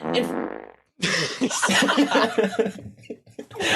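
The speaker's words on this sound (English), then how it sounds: "No more fart sound effects." A long, loud fart sound effect plays in a podcast, a buzzy sputter that cuts off, then a second rough, rippling burst follows after a brief pause.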